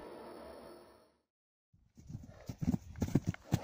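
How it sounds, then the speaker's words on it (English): A Clydesdale horse's hooves clip-clop after a short silence, with steady, loud strikes that quicken toward the end. "The Clydesdale is a breed that combines strength and style with distinctive action that lifts each foot cleanly off the ground"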